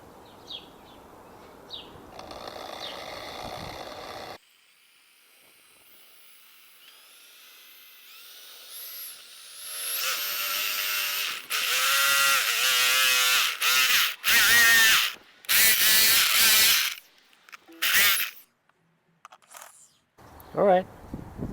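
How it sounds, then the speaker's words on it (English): A stepper drill bit cuts into a metal reinforcement plate for the strut mount on a 2005 BMW Z4: a quiet start, then a series of loud, whining grinding bursts with short pauses between them. "So we're gonna see if we can drill on this reinforcement plate"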